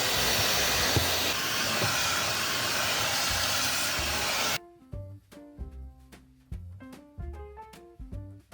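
A loud, steady vacuum cleaner roar inside an RV runs for about four and a half seconds, then cuts off abruptly and music begins.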